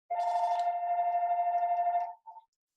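A phone goes off during a live event: one steady electronic ringtone sounds clearly for about two seconds, then a short second blip, with no talk over it.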